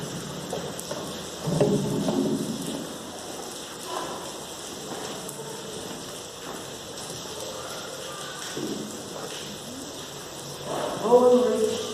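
Intense rain pours steadily on a surface at night before an evening spiritual gathering, a continuous broadband hiss throughout, with a few louder gusts and faint voices and movement in the room.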